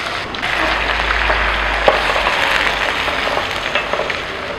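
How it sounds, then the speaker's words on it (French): Chicken curry is stirred in a hot pan, a continuous close sizzle and frying hiss with a few soft scrapes and knocks from the spoon, steady throughout and heard on its own without talk. "Donc je vais mélanger tout ceci ensemble"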